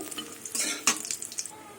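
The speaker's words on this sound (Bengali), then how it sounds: "বড়িগুলো লাল লাল করে ভেজে নেব" Lentil dumplings (bori) fry in hot mustard oil in a karahi, giving a brief sizzle with stirring scrapes and clinks of a utensil against the pan.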